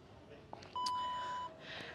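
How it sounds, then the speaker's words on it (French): A steady electronic workout timer beep sounds for under a second over quiet room noise, preceded by a soft click. "vous devez déjà entendre le bip"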